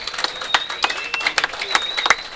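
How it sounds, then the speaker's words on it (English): Scattered applause from a bowling final crowd, broken into separate claps rather than a steady roar, with a thin whistle or tone drifting above and light crowd noise underneath. "let's give them a round of applause"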